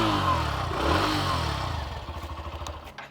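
A 125cc motorcycle engine running just after starting, loud and close, revving briefly then settling into a pulsing idle before a few light clicks.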